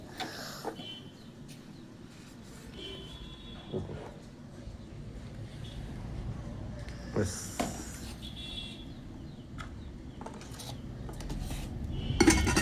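Coriander leaf chutney stirred in a pan, with intermittent scraping and clinking of a spoon against metal, close by, over low background noise and occasional bursts of louder clatter.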